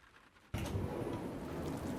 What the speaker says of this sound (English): The chilly November air filled the room as the soft sounds of the rain doubled in volume.